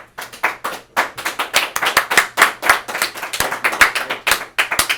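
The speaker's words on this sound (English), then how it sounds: "can I get a quick round of applause for Savvy Kray?" A small group claps by hand for podcast guest Savvy Kray, a close, steady run of sharp individual claps lasting several seconds with no talk over it.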